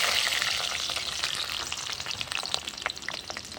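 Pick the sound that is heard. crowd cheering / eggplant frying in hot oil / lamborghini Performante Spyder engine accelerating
eggplant frying in hot oil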